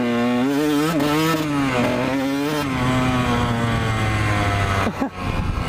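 Kawasaki KX 125 two-stroke dirt bike engine revving hard and loud up close, pitch rising and falling through several quick throttle blips before a sharp drop near the end.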